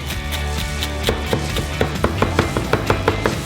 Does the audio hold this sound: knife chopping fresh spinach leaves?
yes